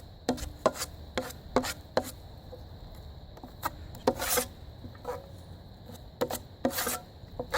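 Drywall joint compound being stirred and mixed in its bucket for a patch repair, heard as a series of short scraping, slapping strokes in an irregular rhythm, close and moderately loud with no talking.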